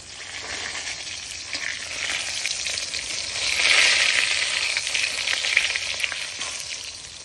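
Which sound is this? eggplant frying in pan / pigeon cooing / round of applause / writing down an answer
eggplant frying in pan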